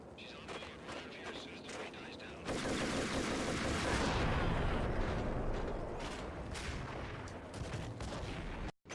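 Rapid gunfire and heavy explosive blasts from a grenade launcher in the video game Max Payne 2, a dense loud burst swelling mid-clip then tapering, with a player talking intermittently over the action.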